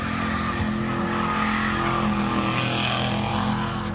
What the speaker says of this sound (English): The car then accelerates, making a loud noise, scaring the news reporter